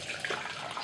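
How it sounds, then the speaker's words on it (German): Liquid from lactic-acid fermented fruit poured through a strainer, a brief splashy stream of running liquid heard up close with no speech. "darum filtere ich das jetzt hier nämlich auch mal kurz durch"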